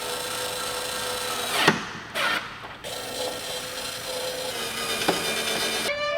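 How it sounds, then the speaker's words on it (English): A power drill drives a fastener to mount a backup camera onto an old car, heard as a steady mechanical whir with a few short, sharp bursts of drilling, close and fairly loud. "I'm still gonna drill it onto this part"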